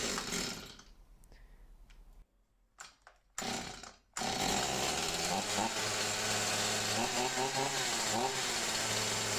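A STIHL MS 182 chainsaw, started on the first pull on full choke, roars into a loud, steady two-stroke idle after a few short sputters and gaps, close up and alone.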